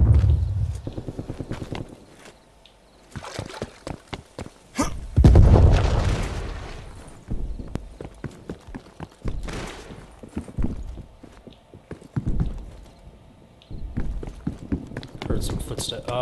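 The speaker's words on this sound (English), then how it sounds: "That's where I heard the footsteps." Footsteps in Call of Duty Black Ops Cold War gameplay come as quick rhythmic clicks and thuds, broken by occasional booming impacts and in-game sounds.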